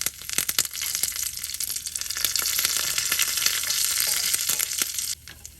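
Curry leaves dropped into hot oil with popped mustard seeds crackle sharply and sizzle steadily up close, with busy spattering pops, then the sound drops off abruptly near the end.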